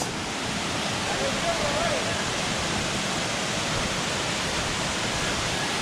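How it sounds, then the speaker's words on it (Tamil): Thoothur waterfall pours with a loud, dense, continuous rush of water, steady and close with no break, and no voices are heard over the roar. "வாட்டர் ஃப்ளோ பாருங்கள் எப்படி இருக்குன்ட்டு."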